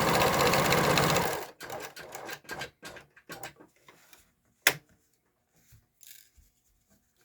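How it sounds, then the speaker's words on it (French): A sewing machine stitches the corner of a coin purse made from recycled denim jeans, with a short, dense burst of close stitching followed by scattered light clicks and handling taps. "Je laisse mon aiguille piquer pour faire mon coin."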